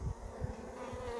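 Honeybees buzz faintly at a hive infested with varroa mites, a soft continuous hum with light, irregular thumps beneath.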